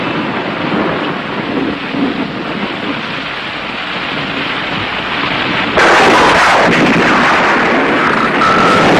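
Thunder rumbles and crashes in a heavy storm with steady rain, a long low roll building into a loud, sharp close crack near the end, with no voices.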